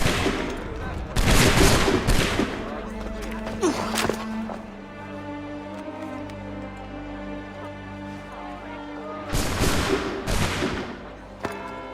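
Gunfire in Assassin's Creed III following an order to fire: a loud volley of musket shots, a lull of lingering rumble and scattered cracks, then another sharp volley near the end.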